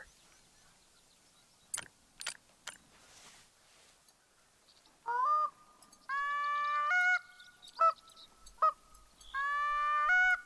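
Canada geese in the hunting game theHunter: Call of the Wild, where a near-silent stretch with a few sharp clicks gives way to a run of loud, nasal honks in short bursts.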